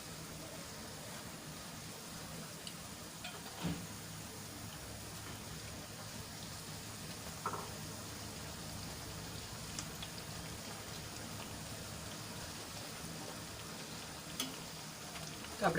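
Potato bhajiya fry in oil with a faint, steady, rain-like hiss of fine bubbling that runs throughout, broken by a few soft pops.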